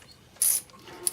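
A ratchet clicks briefly while loosening a spark plug from an aluminum cylinder head on a 2014 Toyota Camry, a short quiet burst of metallic clicks with a faint second burst after.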